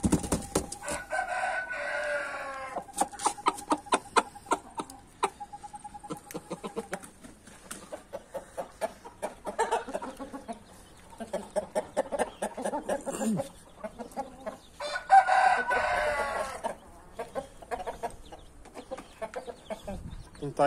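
A young fighting rooster clucks in short, repeated bursts and gives brief crowing calls in a farmyard, with someone talking intermittently nearby.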